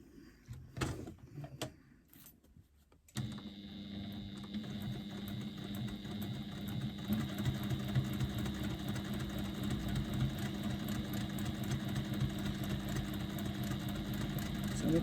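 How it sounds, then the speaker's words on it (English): A sewing machine runs steadily after a brief start, stitching all the way around with an even, continuous mechanical whir and rapid needle rhythm, fairly loud and close, preceded by a few clicks and handling sounds. "This time we appear to be stitching, which is good, that's what we want."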